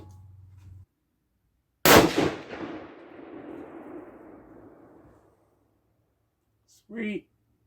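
A single loud 6.5 PRC rifle shot firing a Hornady 140gr Match load, a sharp crack with a long rolling echo that decays over a few seconds, followed by a brief faint voice.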